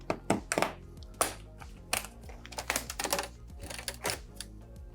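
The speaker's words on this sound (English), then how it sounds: "Cut the adhesive away and pop any clips. I have to pop these guys off." Sharp plastic clicks and snaps from bezel clips being pried off a Dell Inspiron 15 3530 laptop screen, a rapid irregular series of close, loud pops and taps with no talking.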